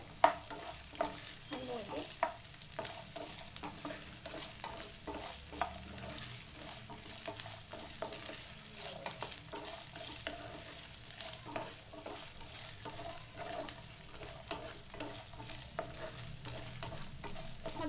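Moong dal roasts in a pan for halwa, a soft continuous sizzle overlaid with repeated scraping strokes of a spoon stirring, close and fairly quiet throughout.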